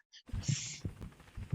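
Heartbeat cue from the Tomb Raider action adventure DVD game, rooftops of Paris level: soft low thumps in a slow double-beat rhythm, close and moderately loud, with a brief hissy swell in between.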